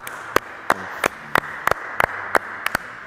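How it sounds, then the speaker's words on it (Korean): Single pairs of hands clap sharply about ten times in an uneven rhythm, with close, crisp claps standing out against a quiet room. "박수 쳐봐."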